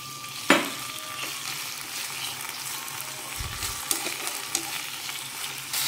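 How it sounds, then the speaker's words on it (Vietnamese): Meat stir-frying with shallots and garlic in a pan, a steady close sizzle with a sharp clatter near the start and small scraping knocks, no talking. "Hành tỏi thơm mình cho thịt vô mình xào trước."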